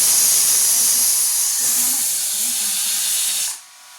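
A pressure cooker of dal and rice lets off a loud, continuous jet of steam that hisses steadily for several seconds, then cuts off abruptly near the end.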